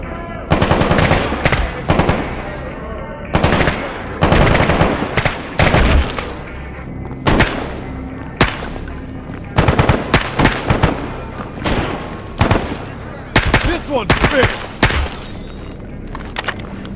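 Bursts of automatic gunfire in Stalker GAMMA, loud and close, firing in repeated volleys of rapid shots with short pauses between them, one after another for the whole stretch.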